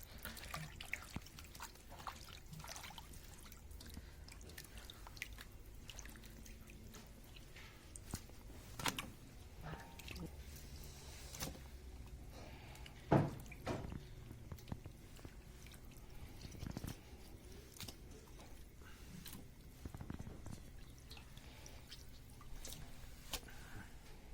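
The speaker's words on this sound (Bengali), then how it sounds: "এখানে গরম জলের মধ্যে মাংসটা ধুয়ে নিচ্ছি" Pork gets washed in hot water at an outdoor spot in Nepal, with scattered drips, splashes and soft handling clatter running steadily through the stretch at a low, close level, one sharper knock near the middle.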